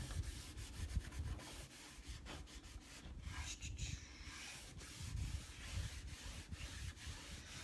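A crafted piece being buffed to remove surface wax, close rhythmic rubbing strokes with some taps, fairly quiet and with no talking.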